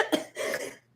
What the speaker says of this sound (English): Don't make me laugh. It makes me cough.